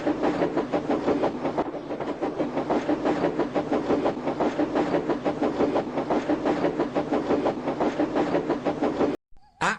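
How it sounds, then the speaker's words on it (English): Steady rhythmic clickety-clack of steam train wheels rolling on rails, loud and continuous, with a brief high steam whistle at the very end. "you can still hear the faraway call of an engine's whistle and the clickety-clack of train wheels turning"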